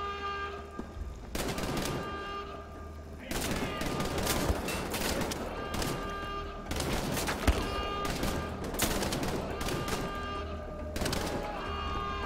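Gunfire in the video game Wolfenstein The Old Blood, with repeated bursts of rapid shots broken by short pauses over a low game backdrop, loud and close.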